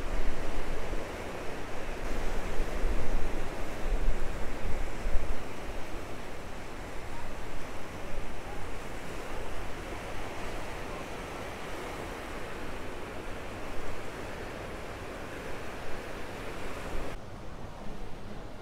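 Ocean surf rolls onto El Medano beach in Tenerife on a windy day, a continuous broad wash of waves with wind buffeting the microphone, steady and fairly loud throughout with no voices.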